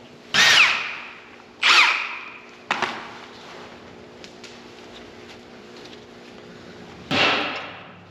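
Outer tie rod end being knocked loose from the steering spindle of a 2007-2014 GMC Sierra pickup, with a few sharp metallic impact bursts spaced over several seconds and quieter tool clatter between them.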